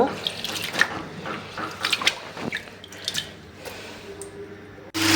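Rice being rinsed in water in a home kitchen before going into the rice cooker: irregular splashes, swishes and drips of water being stirred and poured, fairly close and moderate in level, with a louder clatter at the end.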